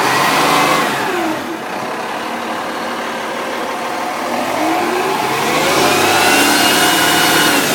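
A newly installed, unmounted car engine running close by, idling loudly and rising and falling in pitch as it is revved, steady without any talk.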